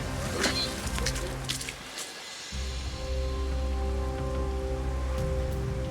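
Heavy tropical rain pours down steadily on an outdoor survival-show camp, a constant wash of hiss with a low steady tonal hum beneath it and no speech.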